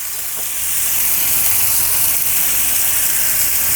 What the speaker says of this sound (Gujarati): એટલે પાણી હું 1 ગ્લાસ નાખું છું.